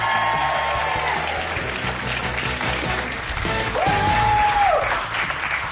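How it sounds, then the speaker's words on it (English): Studio audience on a daytime television talk show applauding and cheering, a loud, sustained wash of clapping with crowd whoops running the full length, no speech over it. "She always gets the big cheer"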